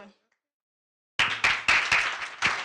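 Audience applause at a talk honoring speaker Faith Moore-McKinney bursts in after a short silence, dense hand clapping with several surging peaks, fairly close and loud.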